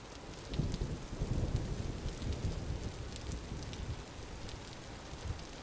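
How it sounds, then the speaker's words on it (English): Steady rain falls in the survival game Vintage Story, a dense, continuous hiss with scattered drop patter, moderately loud and unbroken for several seconds with no talk. "And it's raining outside."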